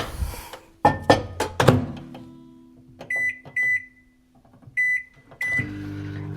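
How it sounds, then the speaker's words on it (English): A microwave oven softening butter: thumps of the door and handling, several short electronic beeps from the keypad, then the low steady hum of the oven starting up. "I like to put it on the microwave and I let it soften a little bit."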